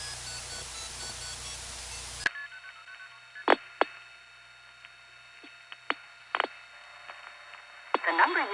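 A call is dialed on a 1975 telephone line: after a brief burst of line noise, a series of short, scattered tones and clicks sound over a quiet background, ending in a cluster of quick bleeps.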